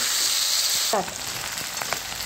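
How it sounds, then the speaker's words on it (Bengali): Loud, steady sizzling of potatoes frying in hot oil, briefly dipping as something is moved, then continuing with a softer crackle. "এবার আলুটা একটু ভেজে নেবো, বেশি ভাজবো না, একটু ভেজে নেবো।"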